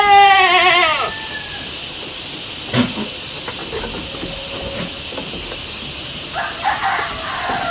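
A goat bleats loudly in a quavering, pulsing call during rumen fluid sampling with a hand vacuum pump through a tube in its mouth, then a steady hiss continues with a few faint knocks and clicks.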